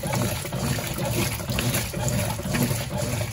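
Water gushing steadily into a Brastemp BWL09A washing machine as it fills for the rinse cycle, a continuous close rushing and splashing with no talk.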